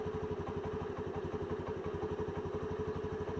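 A motorcycle engine idles just after starting, a steady fast throbbing putter with mechanical clatter, close and even throughout, with no talking.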